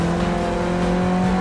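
Renault 5 Turbo in Forza Motorsport 6 accelerating hard, a loud, steady engine drone with strong harmonic tones held throughout, with no voices over it.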